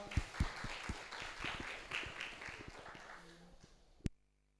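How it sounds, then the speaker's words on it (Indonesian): Workshop audience at a national entrepreneurship event clapping together, a scattered, moderately near patter of hands that fades out over several seconds and ends with one sharp knock before silence. "Tepuk tangan untuk kita semua"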